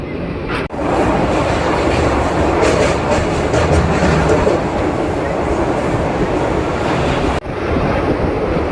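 The Simhadri Express runs from Visakhapatnam to Guntur, a loud, close, continuous rumble and roar of the train in motion with rhythmic wheel clatter, heard from on board without a break.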